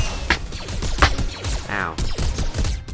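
Explosive bursts and crashing impacts from a grenade blast in Minecraft, several sharp broadband hits spread across a busy stretch of game noise, fairly loud throughout.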